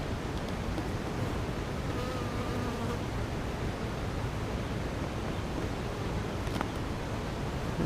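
Honeybees buzz steadily at an open hive during a beekeeper's inspection, a dense, continuous close-up hum with no talk that holds at a constant level throughout.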